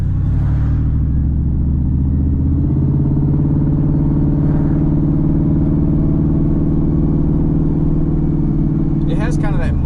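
Ford F-150 with the 5.4 engine and true dual exhaust through the four factory catalytic converters, no mufflers, idling with a deep, steady, somewhat muffled rumble up close and talk continuing over it.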